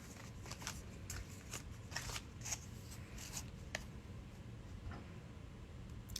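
Tarot cards being shuffled up close, a quiet run of crisp riffling flicks and soft taps in irregular bursts, with no voices over a hushed background.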